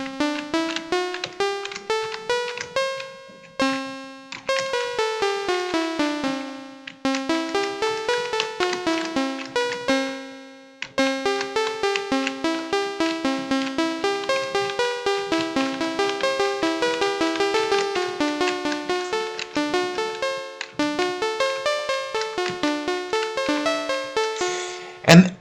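Melodic music in a seven-tone equal microtonal tuning plays in rapid plucked, bell-like notes forming runs and arpeggios with a few short pauses, bright, close and steady with no speech.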